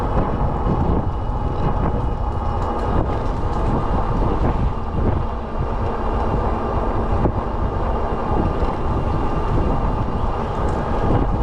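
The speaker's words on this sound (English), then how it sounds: "Very breezy, even here on the trail with trees on either side" Steady wind blows across the microphone on a tree-lined trail, a continuous broadband rush with low rumbling gusts filling the whole stretch and no voices.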